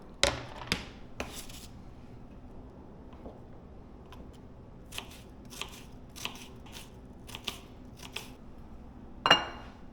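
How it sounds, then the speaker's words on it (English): A knife chopping onion on a board, with scattered sharp taps, sparse at first and then a steadier run of cuts, close and clear with no talking. "Just chop up some onion real quick."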